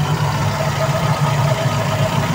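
A Toyota 2E engine idles steadily at lower RPM after the fast idle drops, giving a loud, continuous low rumble with an even, unbroken hum.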